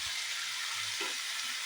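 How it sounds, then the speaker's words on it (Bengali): Fried chital fish and potato sizzle in masala in a hot pan, a steady, close, continuous frying hiss with no talk. "তারপরে আমি মাছ আর আলুটা এর মধ্যে দিয়ে দেবো, দিয়ে এর সাথে আমি কষিয়ে নেব।"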